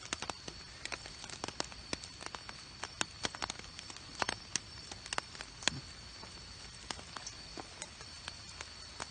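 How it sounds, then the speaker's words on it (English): Rain pattering onto a rain collector outdoors at night, a steady fine hiss broken by frequent sharp drip ticks and taps, close by and fairly quiet, with no talking. "there's my rain collector. It's nighttime, that's the only time I can get it raining."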